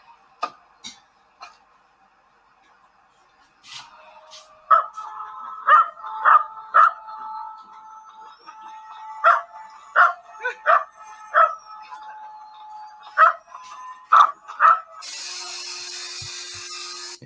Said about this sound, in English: You know that dog screaming out